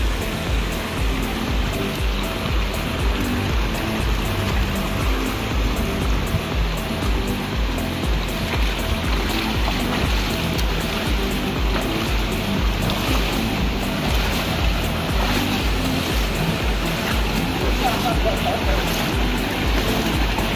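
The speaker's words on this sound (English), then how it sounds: "Up about three waterfalls or so." Waterfalls and a stream rush through the Kanarra Falls slot canyon in Utah, a loud, steady broadband roar of falling and churning water that holds without pause throughout.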